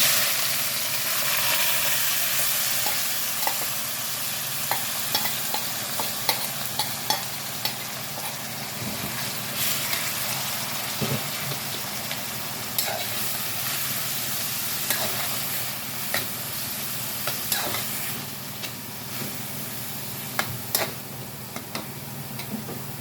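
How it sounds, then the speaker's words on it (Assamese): Four medium ground onions added to hot oil with a broken dried chili, frying for an Assamese Bihu thali; a soft steady sizzle with scattered ticks and spatula taps, close and without talk. "এয়া পিহি লোৱা 4টা মজলীয়া আকাৰৰ পিঁয়াজ, এইখিনিও দি দিম তেলত"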